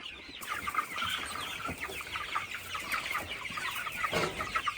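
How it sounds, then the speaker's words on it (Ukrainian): Broiler chickens cluck and chatter continuously in a busy flock, with overlapping calls close by and no talk over them. "Дивіться, які гарні бролери."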